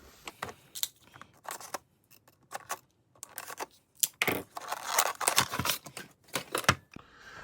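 Unpacking a Craftsman V-Series 3/8 metric socket and ratchet set: scattered crinkles, tearing plastic and light metallic clicks and clatters in irregular bursts, close up and fairly quiet, getting busier toward the end.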